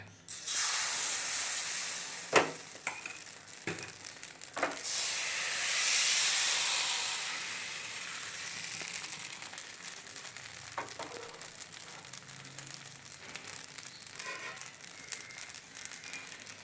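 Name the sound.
batter sizzling in a hot pan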